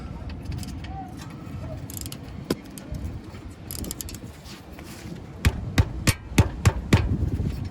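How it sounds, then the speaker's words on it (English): Ratchet wrench straining against a stubborn brake bolt on a Ford F-150, a run of sharp metallic clicks and knocks near the end over low rumbling background noise and faint movement. "I'm going to try it with my ratchet right here"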